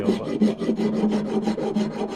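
Sandpaper rubs back and forth along a wooden axe handle being reshaped and refinished, in about a dozen quick, even, rasping strokes that repeat close up with no voices.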